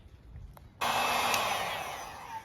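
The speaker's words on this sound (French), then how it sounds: "je vais utiliser ce genre de cosse avec un pistolet d'air chaud" A heat gun starts up abruptly and blows a steady, loud airy roar while heating solder seal wire connectors on a Peugeot 103 moped wiring harness, with no talk over it.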